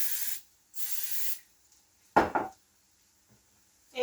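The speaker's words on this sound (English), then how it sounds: "Going to give this a dose of cooking spray when it's ready." Two short bursts of aerosol cooking spray hiss onto a preheated pan, followed by a clatter of a pan or utensil, then quiet.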